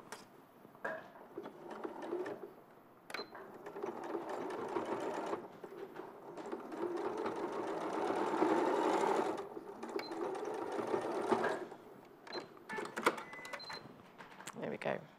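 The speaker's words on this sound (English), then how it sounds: "I'm just going to follow this line and just machine stitch along there" A sewing machine stitches along a drawn line with the needle set in the centre, its motor whirring in steady bursts over about fifteen seconds while a person talks over it.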